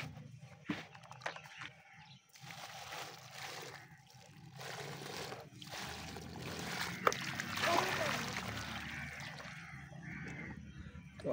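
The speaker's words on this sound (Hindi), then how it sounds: "तो अभी इसको पानी लगाते हैं।" Water runs and splashes as it irrigates a newly planted village garden set for pomegranate and guava trees, a steady moderate trickle with someone talking over it and a few faint birds.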